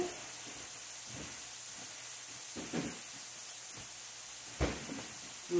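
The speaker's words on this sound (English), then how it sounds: "listen to that sizzle" Soft steady sizzling and hissing of stuffed spaghetti squash filling frying in oil in a pan, with a few brief clattering bumps close by.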